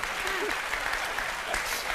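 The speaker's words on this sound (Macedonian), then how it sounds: "Ете, и аплаузот го кажува своето, да." Steady applause from a live song-contest audience fills the space, dense clapping continuing throughout without pause.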